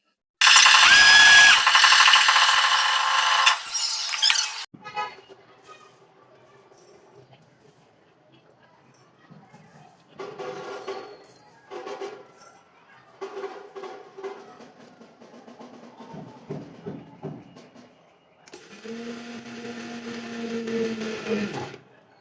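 An electric mixer grinds mixed seeds for ladoo. A loud, whirring grind runs for several seconds, followed by quieter clattering and rattling, then a second strong grinding run at the end.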